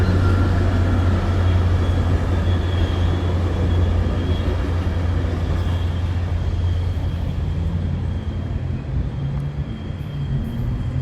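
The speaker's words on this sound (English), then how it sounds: "Train passing by." A train rumbles past close by, a continuous heavy roar with a low hum and rattling wheels that holds steady throughout, no voices.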